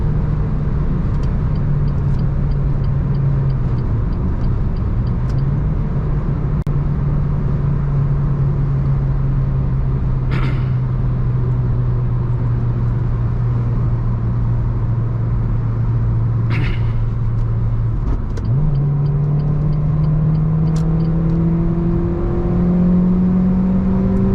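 A 2011 Renault Clio 3 RS with a 203 hp 2.0-litre engine, heard from inside the car: loud, steady engine drone that climbs in pitch, drops briefly at a gear change, then rises again.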